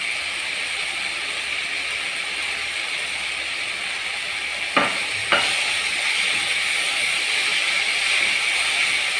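Jackfruit filling is stirred and fries in a hot pan, a steady close sizzling hiss with a couple of brief scraping strokes midway, and no talking.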